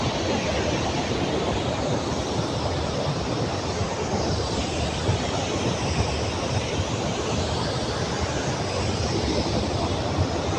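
A tall double waterfall roars with a dense, constant rushing wash of water, heard from high above, steady and unbroken with no voices.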